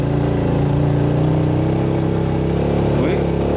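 A small 75 cc motorcycle strains in first gear up a steep, newly built mountain road in Vietnam, its engine droning steadily and loudly at close range throughout.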